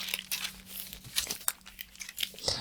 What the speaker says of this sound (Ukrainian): Розкриваємо так само і підклеюємо папірчик.